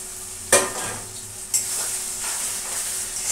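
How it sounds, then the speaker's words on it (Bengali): Spice paste for egg curry stir-fried in a pan with onion and tomato, a steady close sizzle punctuated by two scraping stirs of a spatula. "এই পেস্টটা দিয়ে একটু কষাবো।"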